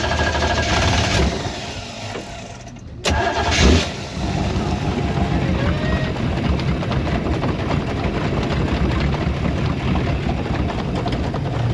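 Boat with 290 engines and no baffles, exhaust routed out below the waterline: after a brief lull the engine rumble surges back and settles into a steady, loud, throaty drone heard up close.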